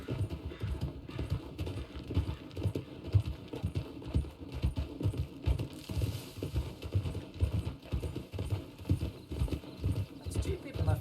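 Horse hooves in the video game Red Dead Redemption beat out a steady, fast clip-clop rhythm throughout, close and moderately loud, with occasional faint voices in the background.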